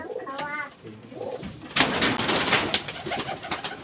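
Racing pigeons in a loft coo steadily in a rising, bubbling chorus, close by and fairly loud, with someone talking briefly early on.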